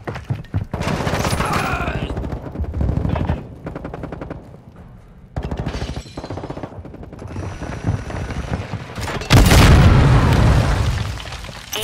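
Video game firefight with bursts of rapid gunfire and booming blasts, including a thrown decoy grenade, loud and dense with brief lulls, ending in a heavy explosion.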